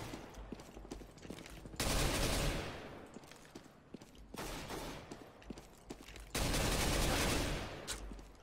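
Gun firing in the video game CS:GO: three long bursts of rapid automatic fire, loud and dense, separated by quieter stretches with scattered clicks and footsteps.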